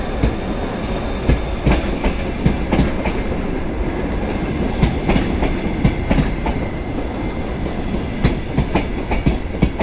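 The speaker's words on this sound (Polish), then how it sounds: "Widzimy tutaj Kijew Express, który chciałam nagrać." Kyiv Express passenger train passing through Warszawa Wschodnia station, loud and close, with steady rolling rumble and regular clickety-clack of wheels over rail joints throughout, no speech.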